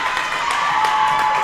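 Crowd at a girls' high school basketball game, Lady Devils against San Angelo Cornerstone, giving a brief, steady burst of cheering and applause that fills the whole moment.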